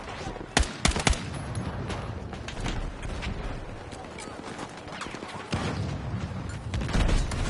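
Explosions and bursts of gunfire from the video game Battlefield 6: sharp blasts cluster near the start, then a dense, rumbling battle din continues throughout, with further shots and booms popping out of the mix.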